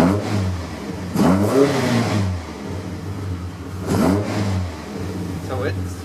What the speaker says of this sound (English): So I'm gonna flip the throttle for you a little bit here.